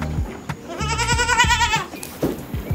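Several goats at a goat farm, including young kids, bleat close by: one long wavering bleat in the middle with shorter calls around it, fairly loud against light background noise.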